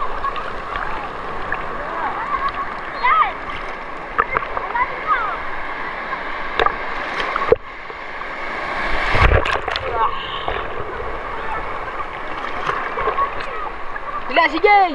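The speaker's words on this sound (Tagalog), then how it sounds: "Mga bata, ingat! Malakas sa agos!" Rushing river water splashes steadily throughout, with children shouting and laughing over the current and a few sharper splashes breaking through near the middle.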